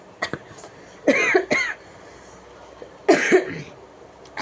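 A few sharp coughs in two short bursts, close and fairly loud, separated by a brief quiet pause.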